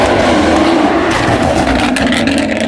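A Maserati GranTurismo MC Stradale's naturally aspirated engine revs hard and loud up close, a sustained roaring blare that fills the whole stretch without any speech.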